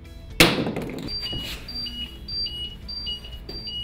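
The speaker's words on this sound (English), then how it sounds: "it's going to go into a full alarm" A sharp knock, then a dropped Blackline GPS lone-worker safety device sounds a run of short, high electronic beeps that repeat at a steady pace and alternate between two pitches.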